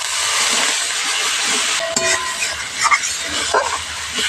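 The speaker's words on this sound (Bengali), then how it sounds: "সব একসঙ্গে ভালো করে আবারও কষিয়ে নিচ্ছি।" Masala with turmeric and chili powder fries loudly in a pan, a dense close sizzle broken by scraping and clinking of a spoon as it is stirred.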